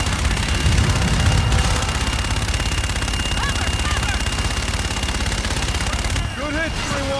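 Gunfire in the video game Call of Duty: Infinite Warfare, a dense, loud continuous rattle of automatic fire and explosions with sci-fi whines and beeps, while voices talk over it.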